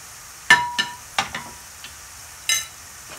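Spices being stirred into a Rui fish curry in a pan, with a handful of short scraping and clinking strokes of a spoon against the pan, close and sparse over a faint background hiss.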